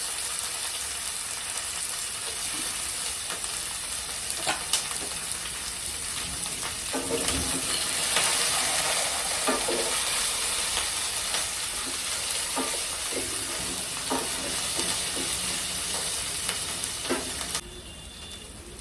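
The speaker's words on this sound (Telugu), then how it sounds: "దీంట్లో ఇప్పుడు అవి వేగిన తర్వాత ఫస్ట్ ఇది కరివేపాకు వేస్తున్నాను, అల్లం ముక్కలు, పచ్చిమిరపకాయ" Curry leaves, ginger pieces and green chillies hit hot oil in a pan for millet upma, giving a loud, steady sizzle with crackling bursts and occasional stirring scrapes, fading slightly near the end.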